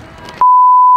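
A loud, steady electronic censor beep holds one high tone for about half a second, cutting in abruptly after a brief stretch of muffled background noise.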